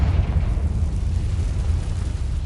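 A Confringo fire spell in the game Hogwarts Legacy, a loud, deep explosive rumble that roars continuously for a couple of seconds without pause.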